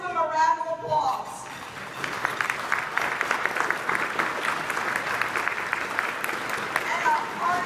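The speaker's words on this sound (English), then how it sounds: "let's give them a round of applause" An audience at a county Democratic Party awards celebration breaks into sustained applause, many hands clapping steadily for several seconds after a brief spoken line from the host.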